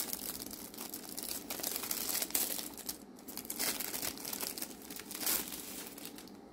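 Plastic packaging around a small pencil case crinkles and tears as it is opened, close and fairly quiet, with bursts of rustling and no talk.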